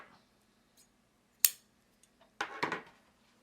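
A few sharp metallic snips as scissors cut through coiled basket material, one crisp cut followed by a denser cluster of snipping and rustling a second later, close and otherwise quiet.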